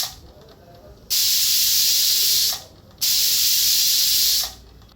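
A pressure cooker on the stove with taro-leaf curry and chana dal inside vents two long, loud steam hisses of about a second and a half each, separated by brief quiet pauses.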